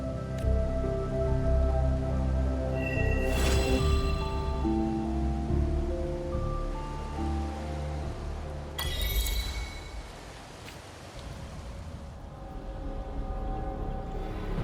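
Rain falls in the video game Wuthering Waves as a steady hiss of drops, mixed under sustained musical tones and a couple of bright splashing accents, with no speech.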